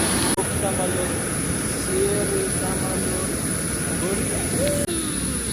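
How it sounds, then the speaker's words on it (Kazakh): An airplane landing at an airport, heard from a waiting area as a loud, steady roar of jet engines with a thin high whine over it. "Самолет түсіру."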